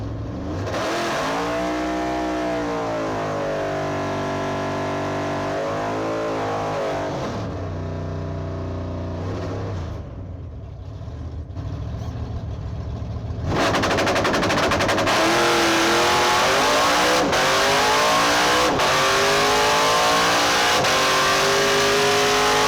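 The Blasphemi drag race car launches on a run with a loud, sustained engine roar, climbing through rising gear pulls before a brief lull, then a harsh crackling blast that stays at full volume to the end.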